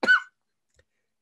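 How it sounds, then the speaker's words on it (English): One short, sharp cough bursts out close by, then silence follows apart from a tiny faint click. "I'm starting to cough up"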